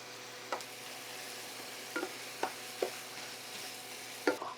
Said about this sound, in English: the ground beef is about half cooked. By the time it's done, these onions will be nice and softened down.